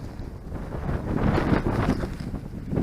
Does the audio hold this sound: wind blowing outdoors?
yes